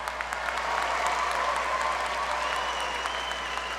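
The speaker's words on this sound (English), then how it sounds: "Let's give a round of applause to the Executive Master of Health Administration graduates." Steady applause from a commencement crowd honoring Executive Master of Health Administration graduates at the 2019 USC Price ceremony, a sustained even clatter of clapping filling the hall.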